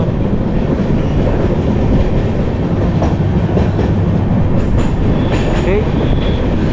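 A train on the Vizag to Araku line, heard from inside a Vistadome coach, rumbles slowly along the rails with a continuous low roar and faint clatter, loud and close throughout.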